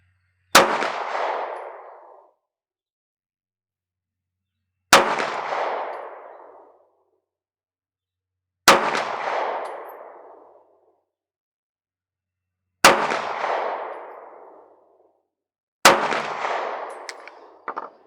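Five sharp shots from a Smith & Wesson Bodyguard 2.0 .380 pistol, spaced a few seconds apart, each a loud crack with a short ringing decay, close and without talk.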